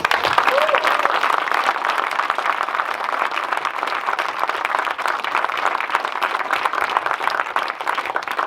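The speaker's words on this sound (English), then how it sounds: "Everyone, please, let's give them a round of applause." Audience applause at a Q&A following a film screening: steady, dense clapping from a crowd, loud and continuous for the full length with no pauses.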